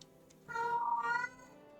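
A house cat lets out one clear, drawn-out meow, close by and fairly loud, with no one talking over it.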